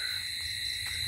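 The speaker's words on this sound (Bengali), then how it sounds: "চারিদিকে ঝিঁ পোকার ডাক" Crickets on a moonlit rural night in Bangladesh keep up one continuous, high, unbroken drone, steady and moderately loud throughout the brief stretch.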